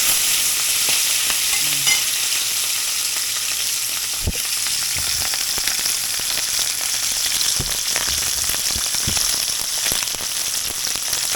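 Fish frying in a pan gives a continuous bright sizzle and crackle, steady and close, with a few soft knocks and scrapes from the pan or utensil scattered through.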